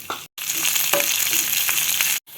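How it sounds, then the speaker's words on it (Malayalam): Small onions sizzle in hot oil with mustard seeds and curry leaves for a brinjal and potato curry, a steady close hiss broken by a short silent gap near the start and another near the end, with a few soft scrapes. "ഇനി നമുക്ക് ചെറിയ ഉള്ളി ഇടാം. അതൊന്ന് മൂക്കട്ടെ."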